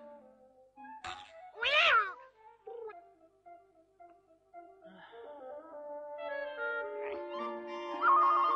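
A cartoon cat gives a loud, drawn-out meow, with a short animated voice line before it and a gentle musical score following.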